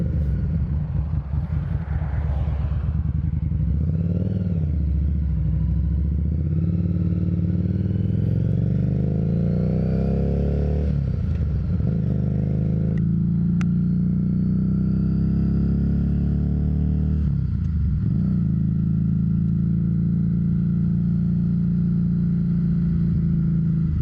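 A motorcycle on a first road ride, heard from the rider's position: a steady, close engine drone that rises and falls with throttle changes, with no talking.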